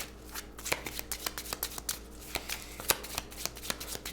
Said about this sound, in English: Let's draw 3 of my cards and shuffle again.